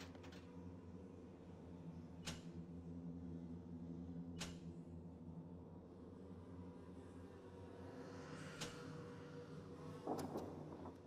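Swarming bees buzz in a steady, low drone throughout a BioShock game scene, quiet and continuous, with a few faint sharp clicks rising above the hum.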